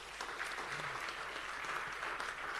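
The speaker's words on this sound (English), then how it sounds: "Can we give him a round of applause?" An audience at a fireside chat on democracy applauds, a soft, fairly distant patter of steady clapping from a modest crowd.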